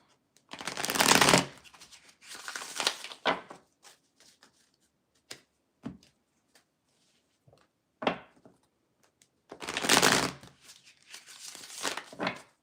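Tarot cards being shuffled by hand in several close, crisp bursts of riffling and flicking, separated by quiet pauses and a few light taps.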